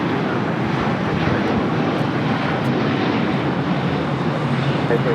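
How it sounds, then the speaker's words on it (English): An All Nippon Airways Boeing 787-9 Dreamliner takes off at LAX with a loud, close, continuous engine roar that stays steady and dense for the whole stretch. "This is All Nippon Airways Flight 5 taking off to Tokyo Narita on a 787-9 Dreamliner"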